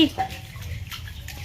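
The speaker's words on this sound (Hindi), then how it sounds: "देखो केते जोर वर्षा हो गलानी" Heavy rain pours steadily during a downpour, a dense wet wash broken by splashing water, with speech faintly present beneath.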